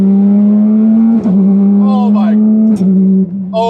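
Porsche 911 GT3 RS with a lightly muffled exhaust holds a loud, steady engine drone close by, with brief dips as it lifts off and shifts, then pulls again; faint voices come through near the end.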